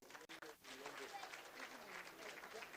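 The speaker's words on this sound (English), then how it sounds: "A round of applause, please." Audience at a Nigerian public ceremony applauding in a continuous, fairly faint wash of clapping after a couple of brief knocks at the start, with a voice faintly audible beneath.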